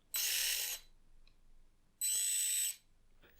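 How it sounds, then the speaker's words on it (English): Two loud, high-pitched electronic whines from the ESC of an SNT Mix Go MG044 1/43 4WD RC touring and drift car, each lasting about half a second, separated by near silence. "one thing I noticed immediately is that it has very loud ESC"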